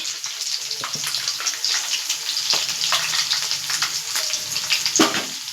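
Green chilli, ginger and garlic sizzle in a pan for paneer masala, a steady close crackle broken by the scrape and clatter of stirring.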